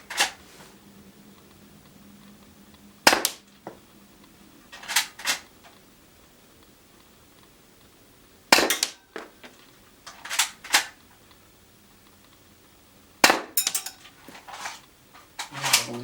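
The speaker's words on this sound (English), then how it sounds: "I guess we have shot through the whole magazine" Several sharp gunshots from a UK Arms P2400 pistol ring out in spaced bursts, single loud cracks and quick clusters of two or three, with quiet gaps and faint background between them.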